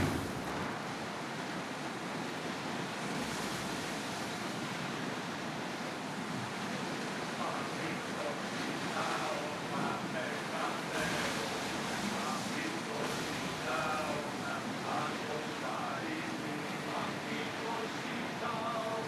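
Ancient Greek ship under oar at sea in Assassin's Creed Odyssey, a continuous loud wash of waves and wind noise with creaks and splashes, voices shouting faintly within the roar.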